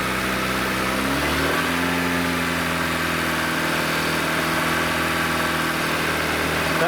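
A car engine idles, then revs up to 2,500 RPM and holds at a steady higher pitch during an alternator test, a continuous loud hum with no talking.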